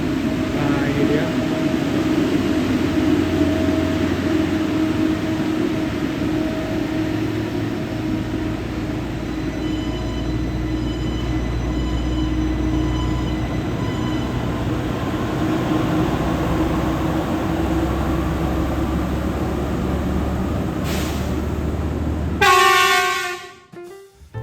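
A KLB KPJR track maintenance train leaves Semarang Poncol station at night, its engine a steady low rumble throughout, then a loud horn blast sounds near the end before the noise cuts off.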